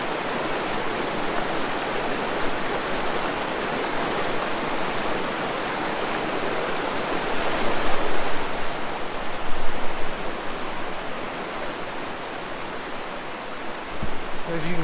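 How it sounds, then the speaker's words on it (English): Little River tumbling over small cascades beside a forest trail, a steady broadband rush of flowing water that swells slightly midway and holds without pause. "There's little cascades everywhere."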